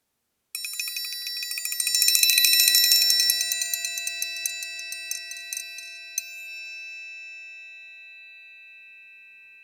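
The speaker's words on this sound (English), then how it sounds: "here's an example of how you can use the triangle as a dynamic or transition sound" A triangle, used as a transition sound in a song, is struck in a rapid roll that swells and thins into sparse taps, then one final strike rings out and fades slowly.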